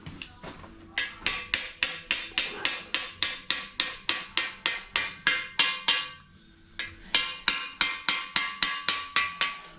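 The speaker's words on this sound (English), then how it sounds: "Need to get an hammer." A hammer knocks repeatedly on parts of an MGA race engine during a rebuild, sharp metallic strikes in a fast, even rhythm, loud and close, with one short pause midway.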